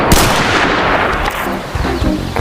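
Revolver gunfire in a video game, a loud burst of sharp booming reports with a ringing tail, heard close and alone.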